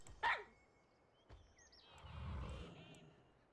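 A dog barks once in a World of Warcraft game scene, a short sharp yelp near the start, followed by a faint click and a low rumble with chirpy high tones fading in and out.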